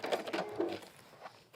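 Sewing machine top stitching water-repellent fabric, a faint, close mechanical whir with quick rapid stitching pulses that fades off and then briefly resumes.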